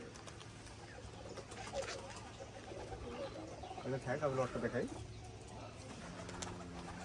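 Soft pigeon cooing rises in short rolling bursts near the middle, with people talking nearby and a low background hum.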